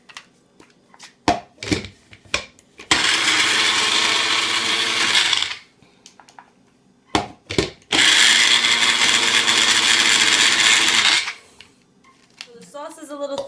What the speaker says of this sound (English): we're going to blend that up in the Magic Bullet